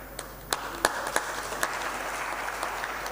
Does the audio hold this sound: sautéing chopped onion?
no